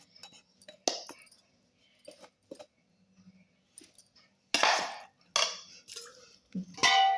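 Intermittent metallic clinks and scrapes of a ladle against a cooking pot while making kali, in short separate bursts with quiet gaps between, close by.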